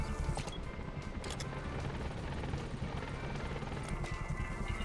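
Helicopter Pequod arriving in a video game, a steady loud rotor thrum with broadband wash, continuous and close throughout with no talk over it.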